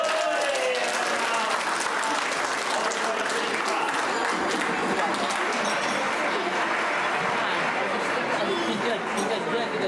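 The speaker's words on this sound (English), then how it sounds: "Now, please give me another round of applause," Audience at a gala night for the 126th Philippine Independence Day celebration gives a round of applause, a dense, steady roll of many hands clapping, with a little crowd chatter mixed in.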